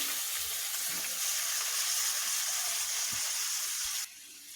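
A steady, bright sizzle of stinging catfish frying in hot oil over fried onions fills the clip, then drops off abruptly near the end.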